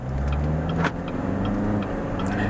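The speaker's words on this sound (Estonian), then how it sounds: "Diiselmootor on suhteliselt lärmakas" An Opel Insignia Country Tourer diesel engine idles with a steady low rumble close by, a brief click near the start, running evenly throughout.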